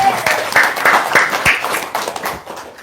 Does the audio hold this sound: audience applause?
yes